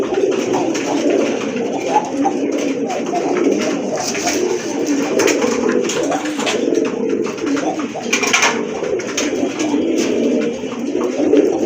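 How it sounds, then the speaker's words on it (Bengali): A pair of deep red Rajgolla pigeons coo steadily, with several birds murmuring over one another in a continuous, close chorus and no one speaking. "টকটকে লাল এক জোড়া রাজগোল্লা কবুতর"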